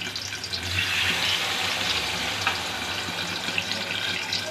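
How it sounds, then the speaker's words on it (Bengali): Water pours steadily into a pot of partly cooked mutton curry, a loud continuous splashing gush close by with a sizzling, hissing edge from the hot pan. "এভাবে আমি এখন এতে দিয়ে দিচ্ছি জল।"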